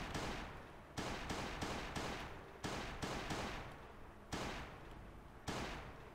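Bursts of gunfire from a weapon in the survival game Last Day on Earth, about six sharp volleys in quick, uneven succession, each ringing out and decaying, loud and without speech.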